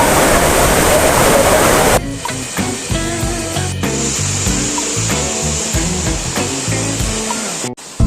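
Moti Jharna waterfall at Sahibganj, Jharkhand, roaring steadily up close: a loud, dense rush of falling water that runs without a break, with hiss and splash throughout and no speech.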